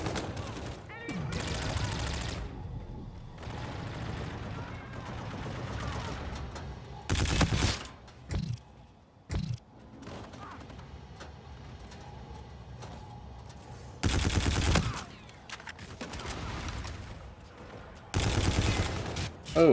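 Video game gunfire in a competitive shooter: sustained automatic bursts and fusillades with loud broadband shot clusters recurring throughout, mixed with game effects under intermittent talk.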